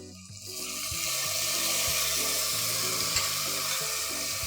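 Cut pieces of raw mango drop into a pan of frying onions, setting off a steady, loud sizzle that swells and holds for several seconds with faint background music.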